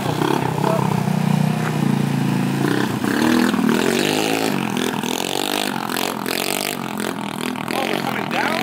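A TaoTao scooter engine revs and buzzes through a wheelie ride, the pitch climbing and falling as the throttle works, close and loud, with people's voices over the motor.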